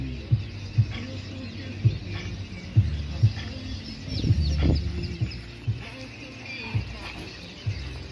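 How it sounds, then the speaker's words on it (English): Birds call from trees in a Christ Church, Barbados neighbourhood, repeated short clucking, fowl-like calls at moderate distance over faint background ambience. "You can hear the birds in the trees"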